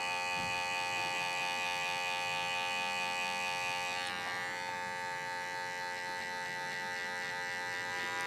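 Electric hair clipper cutting hair during a side-part haircut, a steady close buzzing hum that holds throughout with a slight shift in tone midway as the blade moves through the hair.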